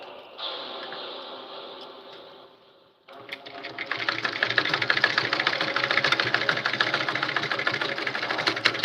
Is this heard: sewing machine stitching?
yes